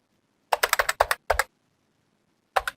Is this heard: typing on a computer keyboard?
yes